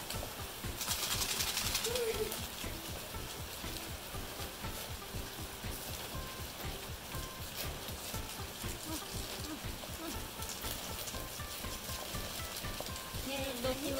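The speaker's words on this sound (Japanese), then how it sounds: "ああブクブクやん、地獄鍋やん" Steady rapid bubbling and gurgling of miso ramen boiling in an earthenware pot on a wood stove, a continuous busy rumble with some faint voices underneath.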